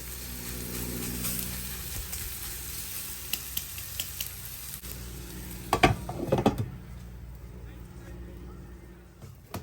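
Three sausages sizzle in an Anko mini electric frypan, a close, steady hiss with occasional pops and scraping stirs, while someone talks over much of it.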